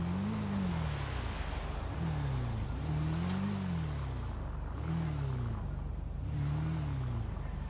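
A car engine revving repeatedly, its pitch rising and falling in regular waves under a constant loud roar.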